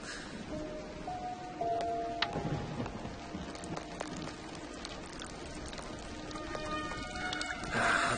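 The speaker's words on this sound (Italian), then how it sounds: "Sì, è un bel temporale" Heavy rain pours steadily during a thunderstorm, a dense continuous hiss with rumbling thunder rolling underneath and occasional sharper cracks, loud and close.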